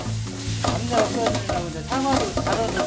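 Gochujang seasoning sauce for Jeonju bibimbap, mixed with apple, is stirred in a pan: a steady, loud scraping and sloshing with a sizzling undertone, and no one talks.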